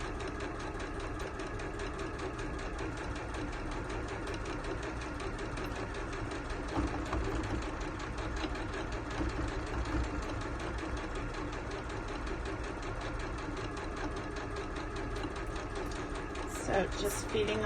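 Steady mechanical whirr of a sewing machine running a straight stitch on fabric for an upcycled pouch, a continuous even hum held for the whole stretch at moderate, fairly quiet level.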